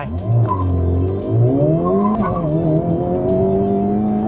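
A tuned Honda Civic Type R FL5 accelerates hard, its engine note climbing through the revs with a gear change partway and a brief tire chirp, loud and close from inside the car.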